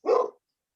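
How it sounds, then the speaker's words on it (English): A single short, close dog bark rings out once, loud and abrupt, then silence follows. "love the applause from the dog."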